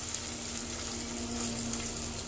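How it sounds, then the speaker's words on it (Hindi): Chicken frying in a pan for white karahi gives off a steady, even sizzle that holds unbroken throughout, close by and with no voices. "दस मिनट तक हम चिकन को फ्राई करेंगे अच्छे से"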